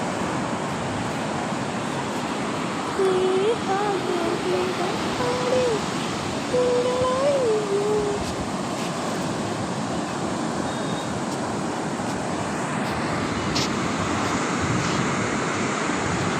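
Large sea waves break and wash continuously on Kozhikode beach, giving a loud, steady surf roar with wind, and faint voices come through underneath.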